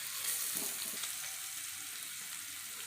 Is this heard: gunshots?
no